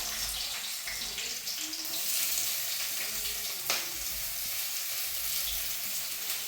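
Onions frying in a pan for a meat curry, a steady broadband sizzle that runs throughout at moderate level, with a brief louder crackle near the middle and no talking.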